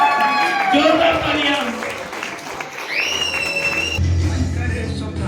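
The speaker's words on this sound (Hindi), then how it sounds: "सारे लीडर हमारे बोर्ड मेंबर्स के लिए जोरदार तालियां" Audience applause for board members at a business leadership program, crowd clapping under a prominent speaking and shouting voice, with music-like tones entering partway through.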